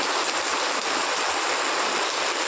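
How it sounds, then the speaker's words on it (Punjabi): Dense, steady rush of heavy, large-drop rain at night in Mansa district, Punjab, loud and close, with a broad hiss of strong wind-driven downpour and no voices. "ਬਹੁਤ ਹੀ ਤੇਜ਼ ਫਰਾਟੇਦਾਰ ਮੀਂਹ ਵਿੱਚ ਹਵਾ ਤੇਜ਼ ਮੋਟੀ ਕਣੀ ਦਾ ਮੀਂਹ"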